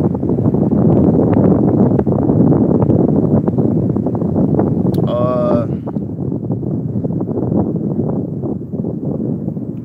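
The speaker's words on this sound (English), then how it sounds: "It's mad windy." Strong wind roars and buffets outdoors in a steady, loud broadband rush, with voices talking under it and a brief high whistling tone partway through.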